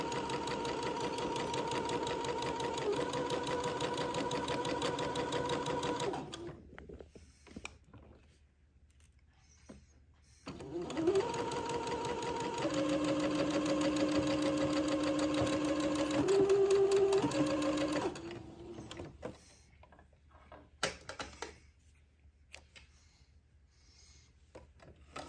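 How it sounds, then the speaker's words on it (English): Sewing machine running a small straight stitch on a gown seam, two steady stretches of fast mechanical whirring with a pause between and a quiet tail of handling noises, close and alone. "do a very small first pass with a straight stitch, about 1/8 of an inch"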